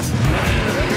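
Race car engines roar and rumble together at the start of a Burnout video game race, a dense, loud burst of motor noise lasting about a second.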